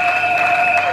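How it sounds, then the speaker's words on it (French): Applause from a church congregation during a worship service, a steady, dense wash of clapping filling the space with no voices standing out. "Applaudissez le Seigneur."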